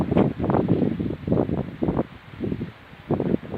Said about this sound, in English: It's a really blowy day today on this lovely silver birch here